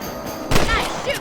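A rifle shot in the Red Dead Redemption video game lands as a single sharp, fairly close report midway through, set against a faint background bed with a brief voice after it.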